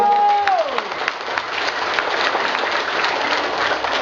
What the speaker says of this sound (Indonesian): aku kasih tepuk tanganmu